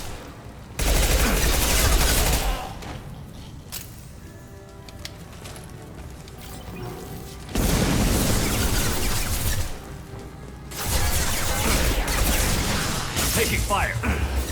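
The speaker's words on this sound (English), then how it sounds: "Taking fire." Gunfire in Mass Effect 2 Legendary Edition: loud bursts of rapid shooting in several stretches, with dense crackling volleys between quieter gaps, and voices calling out around the fighting.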